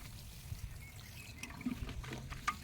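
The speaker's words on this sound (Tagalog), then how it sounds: "So ganito na lang pandilig." Water poured over garden plants such as turnips on a farm, a soft irregular trickle and splash with small bursts, fairly faint and close, with no talk.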